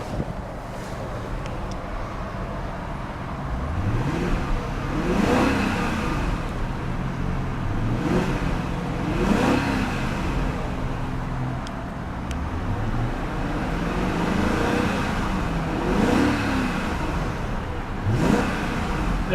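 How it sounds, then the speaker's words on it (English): A 2001 BMW 740i sedan's engine revs repeatedly in steady rising and falling pulls, a smooth low drone with periodic swells, heard close with faint wind noise. "Very nice sounding motor."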